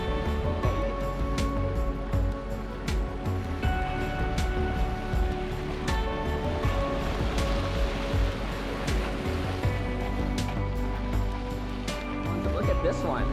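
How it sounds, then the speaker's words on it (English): Boiling water bubbling and churning at the surface of an active Icelandic hot spring, a dense continuous gurgling roar with people talking over it throughout. "Where we could see the boiling water bubbling on the surface."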